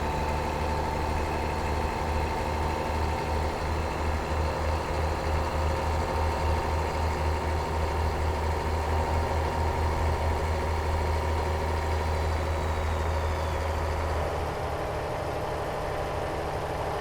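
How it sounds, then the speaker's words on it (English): A truck engine idles and runs steadily in American Truck Simulator, a continuous low, even rumble with a faint whine above it. The sound holds throughout and eases off slightly near the end. No one speaks over it. "I'm just going off of the sound of the engine"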